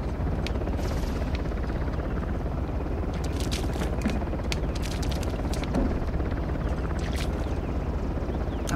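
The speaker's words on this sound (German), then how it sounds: "Wo ist denn jetzt der Heli hin?" A helicopter in the video game Uncharted: The Lost Legacy gives off a continuous, heavy rotor rumble that fills the scene at a steady loudness, with faint scrapes and clicks scattered over it.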